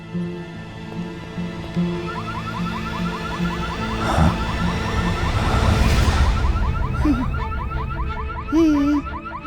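A car warning alarm repeats a rapid warbling, chirping pattern at moderate loudness over a continuous background hum, with a brief whoosh partway through and no voices heard.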